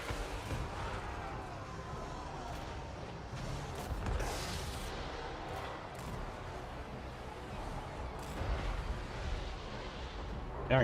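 Artillery pounds a castle in a strategy video game, a continuous rumble of distant booms and impacts that swells and fades under a busy battle din.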